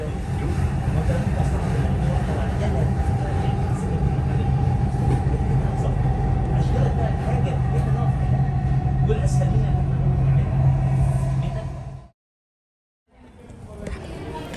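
A Dubai metro train rumbles steadily with a low drone for about twelve seconds, then cuts out, with voices faintly audible over the noise.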